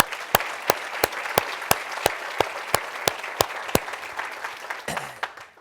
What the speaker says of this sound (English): Let's one more big round of applause for Sam.